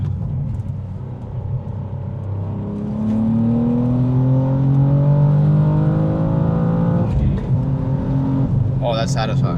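A manual BMW M2 pulls hard through third gear, its engine note climbing steadily in pitch as it accelerates, loud and close, before easing off near the end with a short burst of talk.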